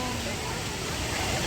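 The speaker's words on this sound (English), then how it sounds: "Mayam Bhelughat ki waterfall jengalake." Bhelughat waterfall in Karbi Anglong, Assam, gives off a continuous rushing roar of falling water, steady and fairly close, with faint voices under it.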